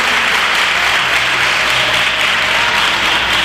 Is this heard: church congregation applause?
yes